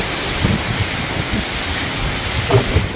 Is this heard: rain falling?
yes